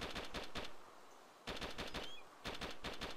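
An AKM rifle fires from a hilltop in DayZ, three rapid automatic bursts separated by short pauses, somewhat distant and moderately quiet.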